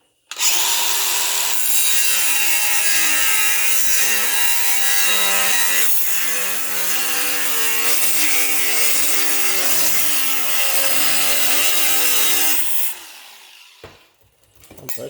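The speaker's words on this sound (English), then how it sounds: "So I'm just going to trim this off and just roughly trim off a piece of it." A piece of material is roughly trimmed off with a hand saw during a DIY build: steady rhythmic rasping strokes, close and loud, running for about twelve seconds before stopping.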